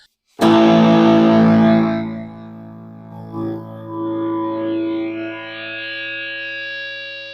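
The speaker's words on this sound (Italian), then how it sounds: "Mettendolo al massimo tende a creare un effetto Larsen, si mette a vibrare soprattutto la corda bassa, trasmette delle vibrazioni e l'amplificatore fischia" Enya smart guitar's 15-watt built-in amplifier turned to maximum: a loud struck chord rings out with heavy distortion and reverb, then sustains and swells into a steady high-pitched feedback whistle from the vibrating low string.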